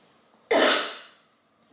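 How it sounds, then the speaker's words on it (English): A single loud, harsh cough bursts out close by and trails off over about a second, followed by a faint start of another breath or cough. "She should not be coughing up that much blood."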